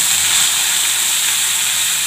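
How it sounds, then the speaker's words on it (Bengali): Neem leaves frying in oil in a home kitchen pan give a steady, close, loud sizzle with a bright hiss that holds evenly throughout, no voices. "ভালো করে ভেজে নেব নিম পাতাটা"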